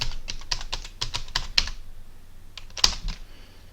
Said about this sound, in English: we have to type the username